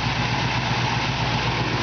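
A 1965 Mustang Fastback's 351 Windsor V8 idles in a steady, low rumbling burble, close and continuous, with no voices.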